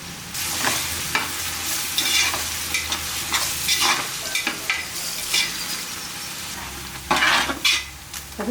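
Sliced onions with salt sautéing in a pressure cooker for mutton biryani, a loud continuous sizzle broken by frequent scraping stirs of a ladle against the pot, close and busy, with no speech.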